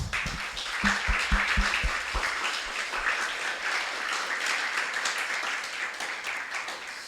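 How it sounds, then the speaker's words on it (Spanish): A church congregation applauds in sustained, dense clapping that fills the room at steady loudness, with a few louder individual claps standing out near the start. "Denle un aplauso al Señor."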